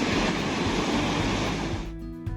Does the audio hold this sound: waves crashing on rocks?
yes